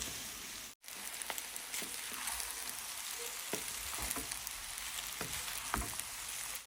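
Two eggs sizzle and crackle steadily in a hot pan, with a dense, constant hiss and a few sharper pops and stirring clicks, close and alone.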